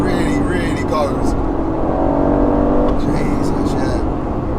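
A twin-turbo 503 bhp V8 Aston Martin Vantage accelerating hard in manual toward redline, engine tone climbing steadily with a gear change, loud and close, with a voice talking over it.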